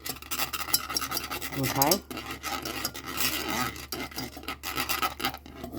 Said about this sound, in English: Sorry about the sound. I haven't brought another silicone whisk yet.